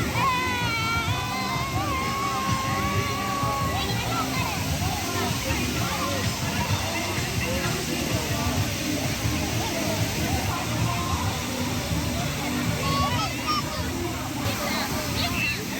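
Waterfall pouring steadily into a pool where families bathe, a constant rushing roar with splashing, children's voices and the babble of a crowd mixed in.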